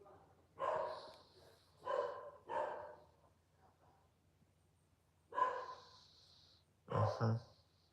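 A loud dog barking behind a closed door, heard as several separate bursts of muffled barks spaced across the stretch with quiet gaps between them.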